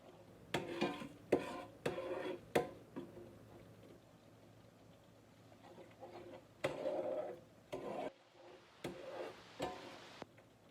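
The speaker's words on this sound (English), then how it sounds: "you'll want to keep it stirred so it don't stick" Sawmill gravy thickening in a pan is stirred with a utensil, giving a few soft, close scraping taps at first, then quieter intermittent scrapes and bumps against the pan, with no voices.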